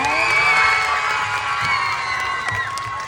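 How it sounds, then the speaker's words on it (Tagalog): Crowd cheering at a national costume pageant, loud excited shouts and high whoops layered over one another, a dense, close roar that stays steady for about three seconds. "Wala bang palakpakan dyan?"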